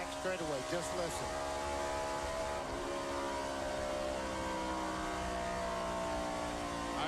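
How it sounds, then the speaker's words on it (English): Race car engine running at speed down the back straightaway at Lowe's Motor Speedway during The Winston, a steady loud drone with shifting harmonic tones under crowd and broadcast noise, with talking over it. "listen to that motor go down the back straightaway"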